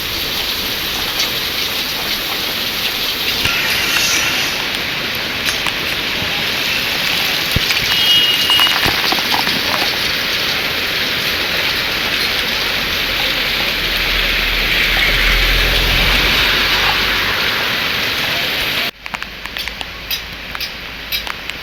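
Steady, dense downpour of heavy monsoon rain in Doda hissing continuously on surfaces, with scattered patter and drips throughout, briefly thinning near the end.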